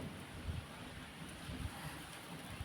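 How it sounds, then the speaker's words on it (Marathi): Steady outdoor wind rushes and buffets the microphone with low gusty rumbles, noticed while lentils are roasted for bhaji batter in a home cooking setting; no talk. "वारा बघ किती सुटलं"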